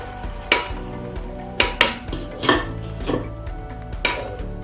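Puree of two medium tomatoes frying in oil in a pan, a continuous low sizzle broken by several sharp clinks and scrapes of a utensil stirring at irregular intervals.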